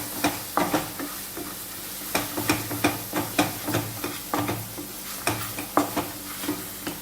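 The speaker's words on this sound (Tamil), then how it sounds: "எல்லாம் நல்லா மிக்ஸ் பண்ணி விட்டுக்கலாம்" A spatula scrapes and stirs chana masala through a sizzling pan in a steady rhythm of repeated strokes, the frying hiss continuing underneath.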